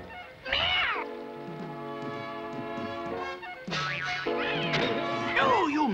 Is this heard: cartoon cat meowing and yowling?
yes